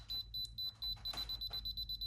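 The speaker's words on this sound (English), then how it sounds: "And then it beeps faster as I get close." Repeated short electronic beeps from a Huepar digital angle finder in sound mode, a steady train of close, evenly spaced tones that quicken slightly, with a low hum underneath.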